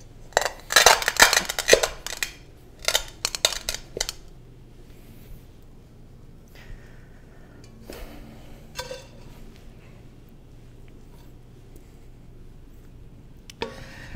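A heavy pot pressed and knocked onto coffee beans wrapped in a towel, giving a burst of loud clattering crunches and knocks in the first four seconds, then mostly quiet with a few scattered thuds and scrapes.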